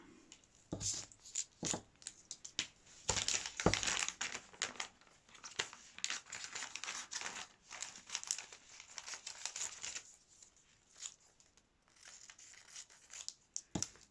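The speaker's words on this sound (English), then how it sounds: "So maybe cut it into little strips" Thin metallic craft paper being cut into little strips, with close, irregular crinkling and snipping bursts that come in clusters and pause briefly before picking up again.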